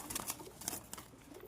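Pet pigeons of an old breeding line give soft, faint coos and rustles, close but quiet, in short bursts with no talking.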